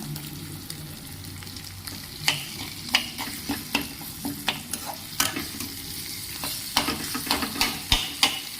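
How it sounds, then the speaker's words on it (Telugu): Mashed lamb blood fries in oil in a home kitchen, a continuous crackling sizzle with frequent sharp pops and spatters, heard up close without talk. "ఇదంతా కూడా మళ్ళీ ఆయిల్లో పచ్చి వాసన పోయేలాగా వేయించుకోవాలన్నమాట"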